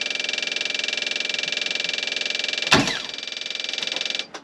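A boat engine's starter motor whirs steadily with a pulsing electrical drone, then the engine catches for a brief turn with a clunk before settling back to the whir and cutting off.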